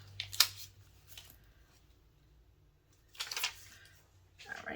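Cricut-cut material is peeled back from its backing in a few short, crisp crackling tears separated by quiet pauses, close and fairly soft.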